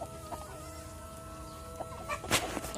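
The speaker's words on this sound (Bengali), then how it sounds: "আর এই যে দেখো মুরগি" A chicken in a Sundarbans village clucks a few times in short, scattered calls over a steady low background hum.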